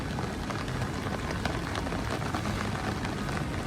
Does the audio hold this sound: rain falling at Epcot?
yes